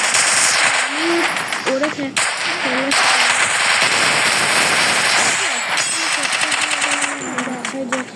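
Gunfire in the mobile game Free Fire: rapid automatic bursts rattle loudly and almost continuously, with a brief pause midway, while a voice talks over the shooting.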